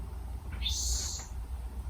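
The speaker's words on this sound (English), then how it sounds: "Listen to the bird outside." A bird outside gives a single high, sweeping call lasting under a second, rising and then falling over a quiet, low background rumble.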